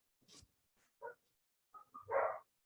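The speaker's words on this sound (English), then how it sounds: "Is it too noisy when the dogs are barking?" Dogs bark nearby in short, scattered bursts with quiet gaps between, a few sharp yips followed by a louder final bark.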